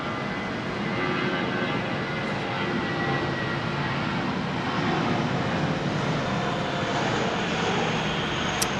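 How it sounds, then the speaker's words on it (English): A Jetstar Airbus A320 jet airliner departs Sydney Airport in heavy rain, producing a loud, steady engine roar that fills the whole stretch without a break and with no talk. "He's off Victor Foxtrot Papa, the A320."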